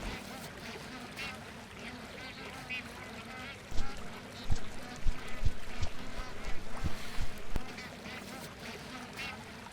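A flock of bar-headed geese honks and calls over farm fields, the cries clustering into a busy burst midway through and continuing over a steady background hum.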